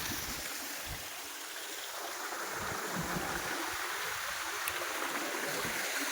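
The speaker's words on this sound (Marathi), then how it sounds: "दोन्ही बाजूने अनेक धबधबे असे प्रभावित होताना पाहायला मिळतात" Waterfalls cascade on both sides near the Godavari river source at Brahmagiri, Trimbakeshwar, a constant broadband rush of falling water at moderate distance, steady and without talk.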